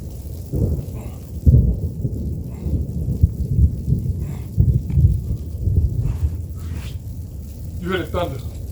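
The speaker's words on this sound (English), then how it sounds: "You hear the thunder." Low thunder rumbles and rolls through steady outdoor rain, booming several times in uneven bursts, with a brief higher crackle near the end.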